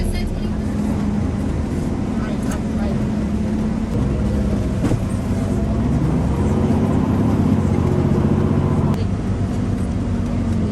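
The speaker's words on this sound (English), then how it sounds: "We're going back to the charter buses to go back to DVC." Charter bus on the road after a campus tour, a continuous low engine drone with road rumble filling the cabin, steady throughout, with people talking faintly in the background.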